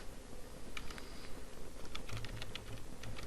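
Rapid typing on a computer keyboard, a quick patter of light key clicks in short bursts, close and fairly quiet with no voice.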